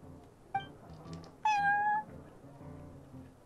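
A cartoonish cat from the video game Genshin Impact, set in the Cat's Tail tavern, gives two short clear meows, a brief one early and a longer, louder one in the middle, over quiet background game ambience.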